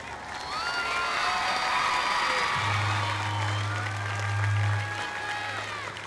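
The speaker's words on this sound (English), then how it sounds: "one more round of applause for these amazing students" A crowd at a high school football game applauds and cheers in a sustained, loud wash of clapping and shouts, with a low steady tone sounding partway through.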